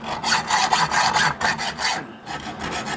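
A metal pivot on a Range Rover step is cut through with a hand saw or file, a steady close rasping stroke repeated in rhythm for about three seconds, with one brief pause near the end.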